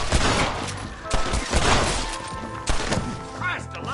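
Gunfire in the Red Dead Redemption video game, a burst of several loud shots fired in quick bursts over a few seconds, with voices shouting amid the shooting.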